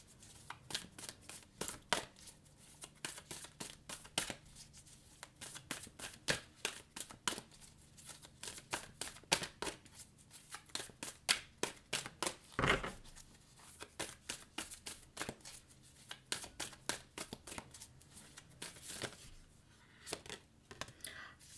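A deck of tarot cards is shuffled by hand indoors, a quiet run of soft, irregular riffling and slapping clicks with brief pauses, close and intimate.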